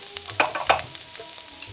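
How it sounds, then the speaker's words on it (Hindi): Chopped onions sizzle in a hot pan while being stirred, with repeated scraping strokes over a steady frying hiss, close and clear with no voices. "अब अनियंस को हमें बहुत ब्राउन नहीं करना है, उसे भूंजना नहीं है ज़्यादा, जस्ट ट्रांसलूसेंट होने तक ही इसे पकाना है।"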